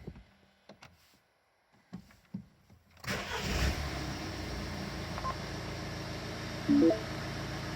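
A Mini Countryman's engine cranks and catches after a quiet stretch of small clicks, then settles into a steady idle hum, close by, with a brief electronic tone near the end.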